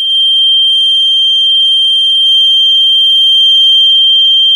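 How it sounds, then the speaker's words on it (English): A microwave radar sensor smart switch for an LED light emits one continuous, loud, high electronic beep tone, sustained and unbroken with no other sound around it. "So now it beeps for about"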